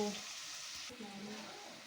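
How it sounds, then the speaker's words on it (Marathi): Onion cooking in a pan for a traditional village-style mussel recipe, a quiet, even sizzle with faint stirring and low background sound. "कांदा शिजतोय तोपर्यंत वाट बघूया आपण"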